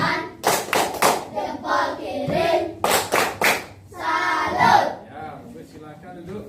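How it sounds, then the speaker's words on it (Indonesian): A class of students claps hands in several sharp, rhythmic bursts, short groups of loud claps close by with shouting and voices between them. "Beri tepuk tangan."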